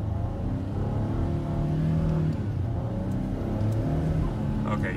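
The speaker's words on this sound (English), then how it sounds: "We'll just give it some throttle, see what happens." A 2021 Ford F-150 XL regular-cab long-bed truck pulls away from a stop in sport mode, its engine droning low and steady from inside the cab as revs build gradually, with faint cabin noise and brief talk.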